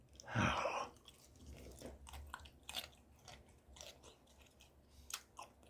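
Someone chewing kimbap with pickled yellow radish up close, opening with a loud crunchy bite followed by softer wet mastication and lighter crunches, with no talking.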